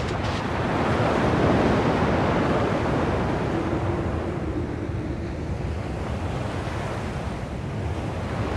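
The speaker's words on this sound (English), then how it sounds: "At least the waves sound the same." Ocean waves in Kingdom Hearts II Final Mix on PC: a continuous, fairly loud wash of surf with a windy hiss, rolling on steadily without any talk.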